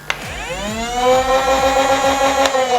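A toy foam blaster's flywheel motor whirs up from a click, its pitch climbing steadily into a high, sustained spinning whine, close and loud.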